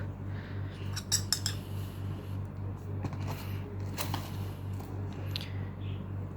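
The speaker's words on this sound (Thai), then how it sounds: "เดี๋ยวเราใช้ช้อนตัวนี้แหละ ตักเข้าไปเลย สักสองช้อนน่าจะได้อยู่นะ" Metal spoon scooping dry parrot chick hand-feeding formula, a few close scraping and clinking scoops in short bursts over a steady low hum.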